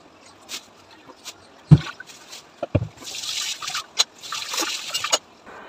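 Cut fish being washed by hand in water, with scattered splashes, trickles and sloshing that grow busier and more continuous toward the end, close by.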